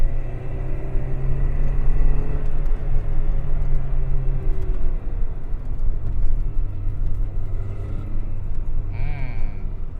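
A Peugeot 405 Mi16 four-cylinder engine hums steadily and smoothly from inside the cabin while driving, with a low continuous rumble and faint whir throughout.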